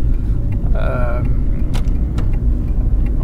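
A 1998 Volkswagen Passat 2.3 VR5 Tiptronic accelerates from inside the cabin, a dense low engine rumble throughout, with a voice talking briefly over it.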